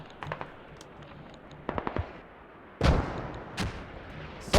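Mortar fire in the tactical shooter Squad during a competitive match: sharp booming impacts, a cluster early, a double thump near the middle, then heavier blasts in the later half, some near and loud, others more distant.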